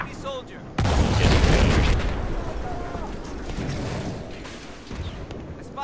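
Gunfire aimed at a tank in Battlefield 4 on the Silk Road map, a loud sustained burst of booming, rumbling shots and blasts that starts abruptly and dies away slowly, with faint voices in the background.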